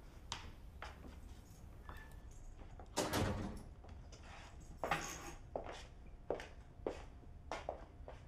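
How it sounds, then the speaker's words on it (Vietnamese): A home door being opened, with a louder clunk of the latch and a few softer knocks and shuffling sounds around it, close by in a quiet room with no talk. "Xuống mở cửa cho mẹ."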